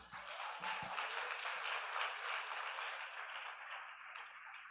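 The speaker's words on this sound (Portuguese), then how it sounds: "Você pode aplaudir o Tiaguinho?" Members of a church congregation clap for Tiaguinho, a soft but continuous round of applause heard at a distance that lasts the whole stretch, with a few low thumps near the start.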